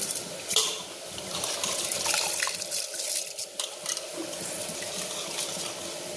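Water runs steadily from a tap into a sink, splashing and dripping, with no talking, in a home kitchen.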